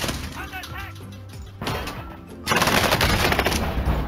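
Gunfire in a tactical video game, with scattered shots giving way to rapid machine-gun bursts that grow louder and denser toward the end while players talk over the action.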